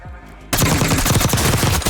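A burst of rapid automatic gunfire in Warzone, loud and close, cuts in abruptly after a brief quiet moment and rattles on in fast repeated shots.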